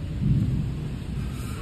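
Heavy rain with thunder: a deep rumbling roll under a steady hiss of rainfall, close and fairly loud for a brief moment, with no voices.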